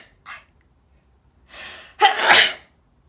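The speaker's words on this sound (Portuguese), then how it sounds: "Eu quando espirro parece que estou a chicotear alguém" Two sneezes from a person, the first a soft breathy one and the second a sharp, loud burst close to the microphone, after a brief faint gasp, with no talking.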